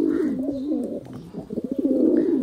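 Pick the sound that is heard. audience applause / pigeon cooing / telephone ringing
pigeon cooing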